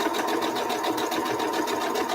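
Sewing machine stitching a red, white and blue quilt block at a shortened stitch length of 2, a steady, fast, even whir of needle strokes running continuously and close up, with no talking.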